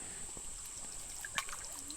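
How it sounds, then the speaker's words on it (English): Water trickles quietly while being gathered outdoors to fill a GRAYL Ultralight water purifier: a faint, continuous dribble with one brief splash near the middle. "So let's collect some water."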